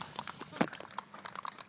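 Horse hooves clip-clop on a riding trail in Baguio, sounding as a series of light, uneven knocks with one sharper hit, faint and close, alone without talk.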